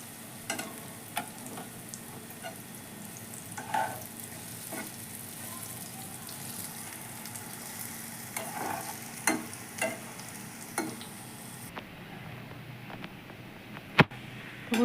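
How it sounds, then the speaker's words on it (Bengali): Bori lentil dumplings fry in hot oil with a continuous bubbling sizzle, punctuated by light clicks and taps of a utensil turning them, close up and without speech. "একটু কড়া করে সুন্দর করে ভাজবো।"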